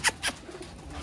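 Pet pigeon giving two short, loud coos close by, each followed by quieter low murmuring, with no talk.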